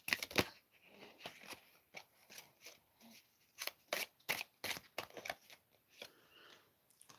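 Tarot cards being shuffled up close in quiet, with irregular crisp riffles and slaps, some bursts louder than others.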